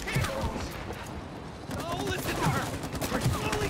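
Gunfire in the It Takes Two video game crackles in quick bursts under excited talk from players, with a few sharper impact hits standing out over busy game noise.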